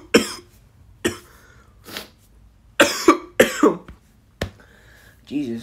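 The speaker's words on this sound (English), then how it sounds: "I have a little cough right now" Several sharp, harsh coughs in irregular bursts, some doubled, close to the microphone with brief silences between them.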